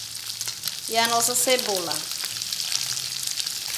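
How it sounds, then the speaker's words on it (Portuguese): Bell pepper, tomato and onion sauté in a pan with a steady close sizzle and crackle of frying, while someone talks over it throughout. "Agora eu vou deixar refogar aqui mais um pouco"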